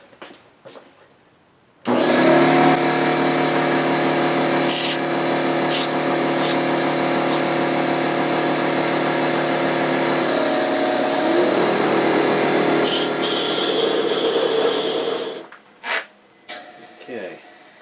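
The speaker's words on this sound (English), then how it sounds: "Grab the blower again." An air blower blasts a small hollow form during woodturning, a loud steady whooshing roar that starts abruptly, holds for about thirteen seconds and cuts off, followed by a few faint knocks and shuffles.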